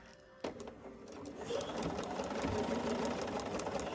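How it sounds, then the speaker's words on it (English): A sewing machine stitches a quarter-inch seam on foundation paper-pieced quilt blocks. After a click, its motor starts and builds into a steady, close mechanical whir of rapid needle strokes, with no talk. "I'm going to sew that section 1/4 of an inch."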